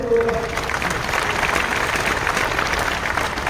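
An audience claps together at a motivational talk, a dense, steady wash of applause lasting a few seconds with no voice over it.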